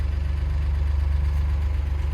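A vehicle engine runs steadily at idle after being started with a jumper wire on the starter relay, a low, even rumble held close and loud throughout with no talk.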